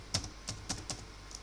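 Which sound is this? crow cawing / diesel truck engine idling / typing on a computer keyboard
typing on a computer keyboard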